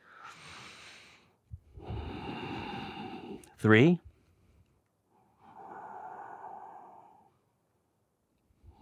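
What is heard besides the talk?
deep yoga breathing with sound through the nose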